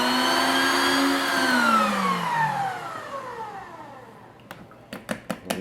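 An electric hand mixer with wire whips beats banana bread batter with a steady, loud whir, then spins down with a falling whine and stops, followed by a few sharp clicks and taps.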